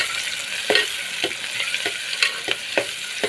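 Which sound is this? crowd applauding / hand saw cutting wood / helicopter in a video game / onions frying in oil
onions frying in oil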